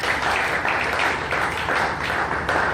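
A church congregation applauds together in a steady, dense wash of clapping with rhythmic swells, fairly loud and continuous.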